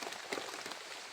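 Steady rain falls close by, a dense soft hiss of drops striking a surface with no pauses and no voices, quiet and even from start to finish.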